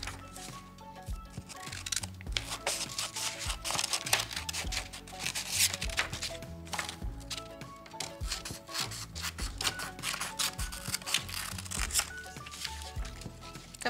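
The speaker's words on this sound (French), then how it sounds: "je vais te laisser prendre ta paire de ciseaux" Scissors snip through paper for an origami bookmark, a quiet, close run of repeated cuts mixed with rustling and handling of the sheet, with no talking.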